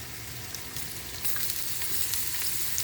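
Half an onion frying in ghee for ghee rice: a steady hissing sizzle that swells a little louder partway through, close with no voices.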